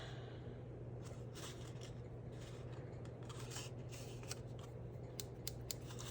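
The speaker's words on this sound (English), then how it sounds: "And I need scissors." Faint, quiet snips and rustles of scissors cutting paper or craft material for a mixed media Christmas house, irregular and close, with a low hum underneath and no talking.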